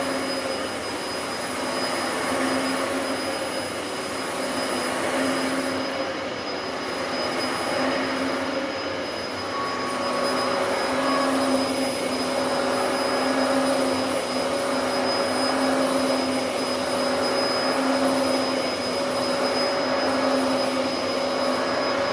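A Dyson DC14 vacuum cleaner runs on carpet sprinkled with baking soda, a loud, steady motor whine and airflow roar that holds constant throughout.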